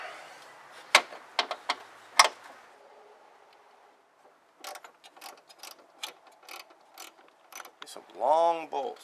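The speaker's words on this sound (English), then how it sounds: "Retrieve the nut driver." A nut driver working bolts on a Ford F-series engine intake, giving sharp metallic ratchet clicks early on, then a quieter run of rapid clicking and tool rattles, close by, ending with a brief squeaky scrape.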